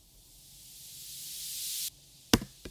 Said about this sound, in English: This note that sweeps up.